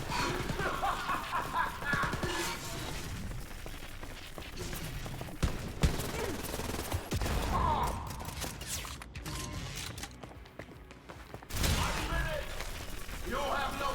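Wolfenstein: Youngblood gameplay with repeated bursts of video-game gunfire and impacts amid busy combat noise and music, loud and continuous with brief lulls.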